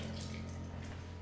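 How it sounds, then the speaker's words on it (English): Water running steadily from a kitchen tap while a lemon is rinsed, a continuous close splashing hiss with no talk. "rinse your lemon."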